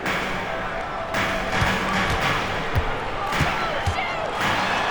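A slam dunk by Anthony during an NBA 2K26 game between the 2010-11 Nuggets and the Nuggets: a sharp thud against steady arena crowd noise and commentary-style talk, with scattered ball bounces.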